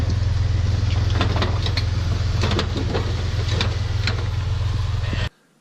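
A broken Jeep with a binding Dana 30 front axle runs with a loud, steady low engine drone and irregular clunking and grinding on top, then cuts off abruptly near the end.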